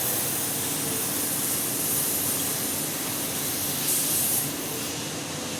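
A low-pressure hose in a parts-cleaning wash bay sprays water in a loud, steady hiss that runs without a break, swelling briefly near the end.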